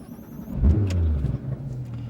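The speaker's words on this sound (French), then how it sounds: "le beau flat 6 est démarré" A Porsche GT3 RS flat-six engine turns over and catches, settling into a low, steady idle rumble close by.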